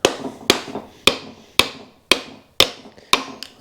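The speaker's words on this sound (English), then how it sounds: "I generally just use a hammer, and not the ball peen end." A hammer's soft end taps a piston down into an engine cylinder sleeve on a 1098 A-series engine rebuild, giving seven sharp, evenly spaced knocks about half a second apart, each with a short ringing decay.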